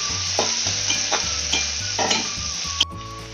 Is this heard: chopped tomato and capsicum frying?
yes